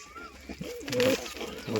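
Pigeons, including a white one, give a short series of low throaty coos at close range, rising louder midway, with a faint voice in the background.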